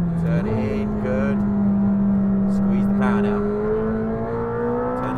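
A McLaren 765LT accelerating on a race track, its engine holding a loud steady drone that climbs gradually in pitch as power is applied, with a voice speaking over it throughout.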